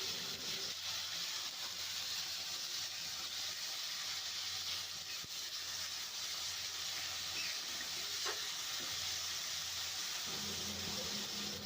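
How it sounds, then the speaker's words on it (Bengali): Ground onion paste frying while being stirred makes a soft, steady hiss at low level, continuous and without speech. "পেঁয়াজটা নাড়াচাড়া করে ভেজে নেব।"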